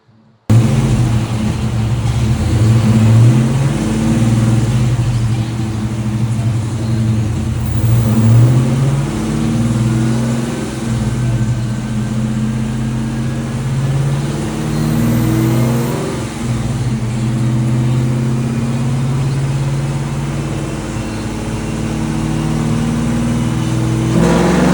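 Dodge Challenger R/T with a cammed 5.7 Hemi V8 running on a dyno, its engine droning loud and steady with rising revs and a continuous rumble for the whole stretch, no voices.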